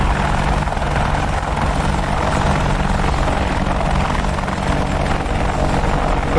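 An Apache helicopter in the flight simulator DCS World gives a loud, continuous rotor and engine drone with a steady low thrum that holds evenly throughout.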